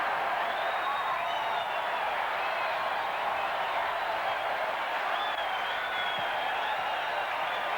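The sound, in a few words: stadium crowd erupting after a Brisbane try in rugby league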